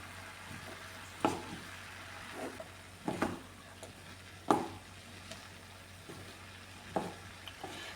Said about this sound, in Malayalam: ഇനി ഇത് തുറന്ന് നോക്കി ഒന്ന് ഇളക്കി കൊടുക്കാമേ